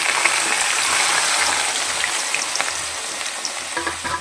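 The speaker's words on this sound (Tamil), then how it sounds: "அடுத்து நம்ம அரைத்து வைத்திருக்க வெங்காயம்" Ground shallot paste frying in a pan for onion thokku, a loud continuous sizzle with light scraping and stirring clicks toward the end, close and steady with no talking.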